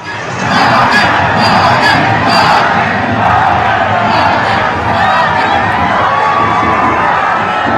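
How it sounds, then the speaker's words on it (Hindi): A large, dense crowd lining both sides of the road during a prime ministerial roadshow in Coimbatore, with a continuous roar of cheering and shouting and a few brief sharp whistles near the start. "पीएम को देखने के लिए, अपने कैमरे में कैद करने के लिए सड़क के दोनों तरफ भारी भीड़ थी।"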